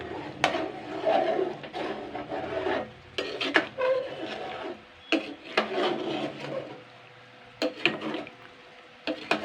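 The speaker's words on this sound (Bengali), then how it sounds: "একটু নাড়াচাড়া করে নেবো।" A spoon scrapes and stirs ghugni with Maggi masala in a metal pan, in bursts of rasping, clattering strokes broken by short pauses, close and clear with no talking.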